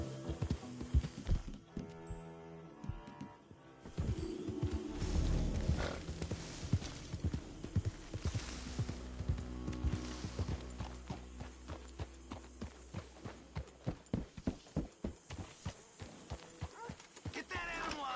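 Horse hooves clip-clop in a video game, with whinnies and snorts mixed in, building to a quick run of hoofbeats near the end; the sound is faint overall, with game voices talking over it.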